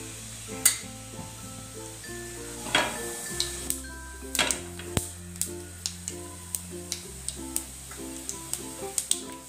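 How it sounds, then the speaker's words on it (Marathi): Cumin seeds sizzle and crackle in hot oil in a pan, with scattered sharp pops and light metallic clinks over a low steady fry, close and fairly quiet, no talking. "पॅनमध्ये थोडंसं तेल टाकू। जिरं छान फुलू द्यायचं।"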